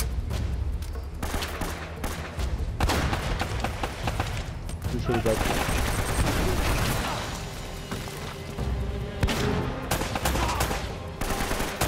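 Heavy firefights in Uncharted: Drake's Fortune, with machine-gun bursts and single shots stacked densely and loud throughout, a few booming hits mixed in, while players talk excitedly over the shooting.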